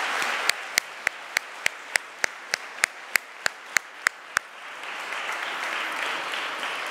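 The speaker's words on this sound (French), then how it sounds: "on va vous applaudir une chaude main d'applaudissements pour les finalistes" Slow, evenly spaced single claps ring out one by one at a rights and freedoms award ceremony. They fade into a softer, broader patter of audience applause for the finalists near the end.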